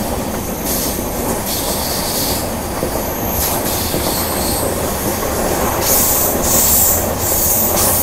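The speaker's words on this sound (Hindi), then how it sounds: "हमारी ये डबल डेकर ट्रेन जो है ना वो टोटल 491 किलोमीटर का डिस्टेंस ट्रैवल करती है" A double-decker train crosses the long iron bridge over the Narmada River with loud, steady rumbling and rhythmic wheel clatter, plus high squeals of wheels on rail near the end, heard from on board.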